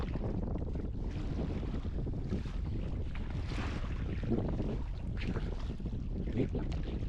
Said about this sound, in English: Decent sized waves going on right here. Choppiest I've been in thus far.